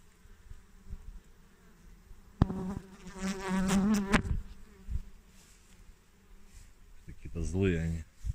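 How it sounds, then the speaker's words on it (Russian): Honeybees buzzing around hives on a rural Belarusian homestead, close bees flying past the microphone in loud, rising and fading passes over a quiet background, with brief speech between them. "Пчелки тут стоят, трудятся."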